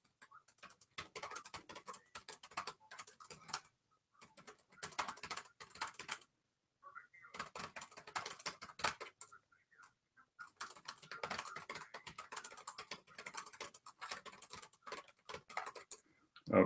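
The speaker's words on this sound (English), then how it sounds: "You guys can probably hear me typing furiously, just trying to answer people's questions." Rapid typing on a computer keyboard, dense bursts of clacking keys in several stretches separated by short pauses, close and fairly quiet, with no talking.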